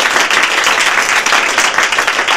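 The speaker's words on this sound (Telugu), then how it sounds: "గర్ల్స్ అందరికి చప్పట్లు కమాన్ గట్టిగా." An audience on a Telugu TV game show bursts into steady, lively applause, a dense ripple of many hands clapping close and loud for the whole moment.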